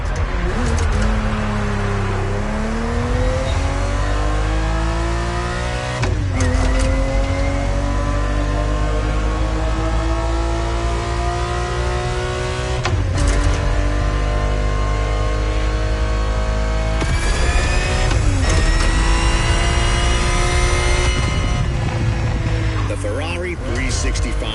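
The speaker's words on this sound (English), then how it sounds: "GTB4 is the perfect vehicle for you to experience Ferrari racing as it felt back in the 70s" Ferrari 365 GTB4 engine in The Crew Motorfest, revving and climbing through gears in long sweeping pulls with brief drops between shifts, loud and continuous, with a narrating voice over the engine.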